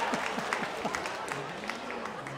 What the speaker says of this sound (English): Hey, let's give Abby a big round of applause.